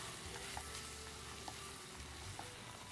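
Prawn pasta with chaat masala and pasta masala sizzling in a pan and being stirred: a continuous soft frying hiss with a few light spatula taps, faint and steady, with no voices.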